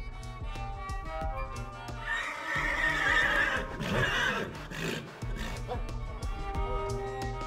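A Marwari stallion gives a loud, drawn-out whinny at an Indian stud farm, rising and shaking over a few seconds, with some background rumble and a voice talking.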